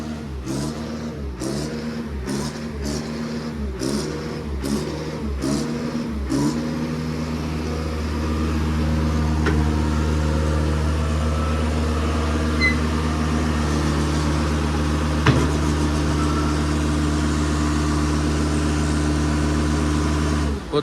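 An Ajax self-loading concrete mixer engine, low on oil, running with rhythmic pulsing knocks for about six seconds before settling into a steadier, slightly faster drone that stays loud and continuous, with no voices.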